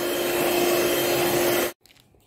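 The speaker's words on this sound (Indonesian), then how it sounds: "Di mixer sebentar saja sampai cukup tercampur." Electric mixer whirring steadily through lapis legit cake batter for about a second and a half, a loud even drone that cuts off abruptly, followed by a few faint clicks.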